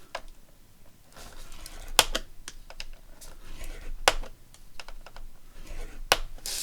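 Thick card is scored by hand, heard as scattered sharp ticks and light scraping strokes that are close and crisp, with a few louder snaps at irregular intervals.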